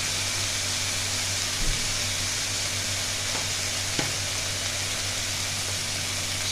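A spoonful of turmeric goes into a frying pan of hot oil for a Bengali duck egg curry, producing a steady, even hiss with a couple of faint spoon taps.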